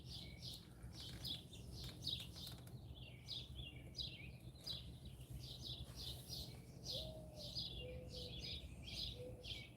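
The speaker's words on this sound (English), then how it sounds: "Yeah, there's a bird up there." A bird calls near an outdoor firepit in a garden, repeated bright chirping phrases at a steady rhythm over a low background hum, moderately distant, with no voices.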